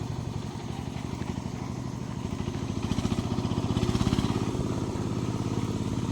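Motorcycle engine running nearby in a rural rice-harvest setting, a steady rhythmic putter that swells a little louder mid-way, with faint voices in the background.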